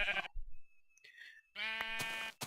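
Sheep in the video game Minecraft bleat twice, close and clear: a short bleat at the start, then a longer one after a brief quiet gap, with no talking.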